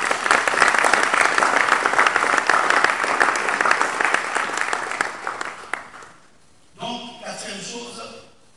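A church congregation applauds in praise, dense sustained clapping filling the room for about six seconds before cutting off, followed by a brief burst of voices at the end.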